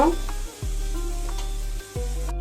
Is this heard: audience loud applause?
no